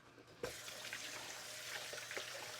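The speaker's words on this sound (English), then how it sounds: "I need to wash my hands." Water runs from a kitchen tap as hands are washed, a steady, fairly faint hiss that starts abruptly and carries on with small splashes to the end.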